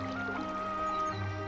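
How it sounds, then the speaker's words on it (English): Gently babbling brook in Hellingley, a quiet East Sussex village: soft continuous trickling and gurgling water with faint wet splashes, steady and calm over a low background hum. "The soothing sound of the gently babbling brook,"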